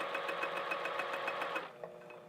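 A home sewing machine stitching fabric for a Phoebe top, a fast steady whirring hum of needle strokes up close that stops abruptly near the end.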